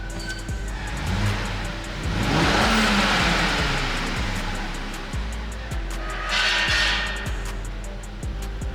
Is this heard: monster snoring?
no